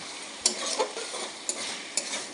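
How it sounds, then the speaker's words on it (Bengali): Ginger and potato masala stir-fry in a pan for a vegetarian aloo dum; a dense, steady sizzle is broken by three crisp spatula scrapes spaced about half a second to a second apart. "এই যে আমি খুব ভালো করে কষিয়ে নিচ্ছি"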